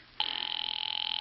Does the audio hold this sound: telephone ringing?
yes